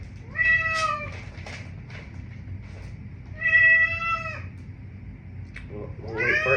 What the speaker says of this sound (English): So for anyone who can speak cat, he'll always have something to say to you.